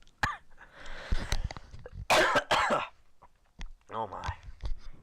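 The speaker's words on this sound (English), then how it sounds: "I'm getting coughing" Several bursts of coughing and throat clearing, close and fairly loud, spaced irregularly with short quiet gaps between them.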